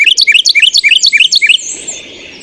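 Carolina wren song played back from a birding app: a loud, close run of about seven rapid, evenly spaced rolling chirp phrases, then a fading, noisy tail with no voices.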